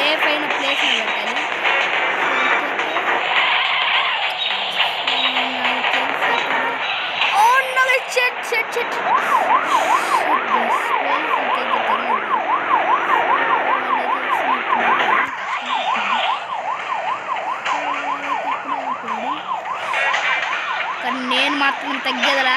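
A police siren in a modded Vice City video game wails in fast rising and falling cycles, loud and up close, mixed with engine and game noise.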